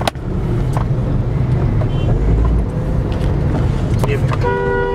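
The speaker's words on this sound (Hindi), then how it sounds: "और बहुत ही ज़ालिम ट्रैफिक है" Heavy road traffic fills the scene with a steady, loud engine rumble, and car horns toot now and then. One horn at the end holds a long note. Someone talks throughout over the noise.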